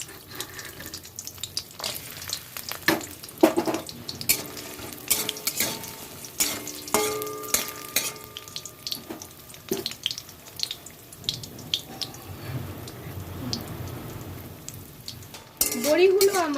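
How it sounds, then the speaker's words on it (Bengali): Lentil dumplings (bori) frying in refined oil in a kadhai, a close, steady sizzle broken by sharp clinks and scrapes of stirring in the pan. "সবার প্রথম বড়িগুলো ভেজে নেব।"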